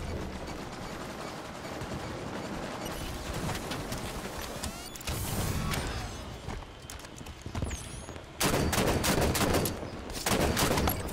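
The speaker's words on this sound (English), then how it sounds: "One bullet with the SMG, damn it." SMG fire in the video game Halo 5: Guardians Warzone rattles in quick bursts of sharp shots over busy game noise, with louder rapid volleys near the end.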